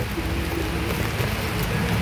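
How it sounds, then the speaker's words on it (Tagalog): Steady rain falls in a dense, even hiss with a low rumble beneath, constant and close for the whole stretch, with no voices. "Naku, umuulan na. Yan ang ulan."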